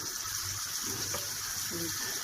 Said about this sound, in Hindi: पानी डाल के